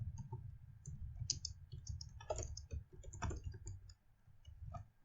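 Close keyboard typing while writing a LaTeX document on a computer, brisk irregular clicks and key taps in short bursts with brief pauses, fairly quiet over a low room hum.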